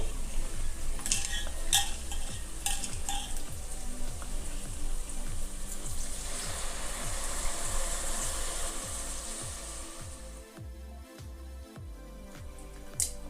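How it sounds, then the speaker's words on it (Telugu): Tamarind squeezed by hand in water for a moong dal dalcha, a rhythmic wet squelching and sloshing repeated in a steady beat, close and alone with no talk. "చింతపండు పులుపు పోయేంత వరకు ఇట్లా నీళ్ళు పోసుకొని పిసికేసుకోవాలి"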